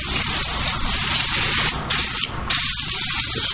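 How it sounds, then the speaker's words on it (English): Degreaser sprays from a can onto a car engine in a loud, close, continuous hiss that breaks briefly twice as the nozzle is released, with no talking. "Just spray the degreaser everywhere."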